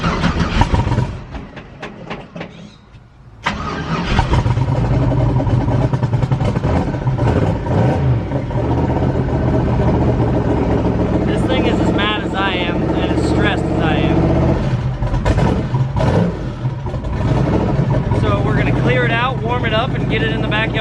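Duramax diesel engine in a Squarebody truck, a loud steady rumbling run that surges and revs after a brief cranking start, with people talking over it.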